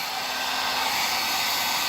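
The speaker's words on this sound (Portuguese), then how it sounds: "Coloquei a impressora para imprimir" A home printer runs steadily while printing, a continuous whirring drone that stays even and close throughout with no voices.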